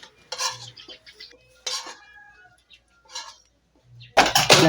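Metal utensil scraping and clinking against a cooking pan while oil is hurriedly scooped out for frying bitter melon, a few separate bursts of clatter ending in a louder, sustained scrape, with no talking.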